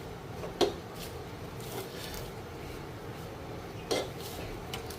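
Egg-coated bread being stirred in a pan at home, heard as a steady soft scraping with two sharper utensil clinks against the pan, close by, with no talk.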